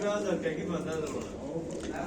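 Soft, throaty cooing of pigeons resting after a flight repeats close by, with low overlapping murmurs throughout.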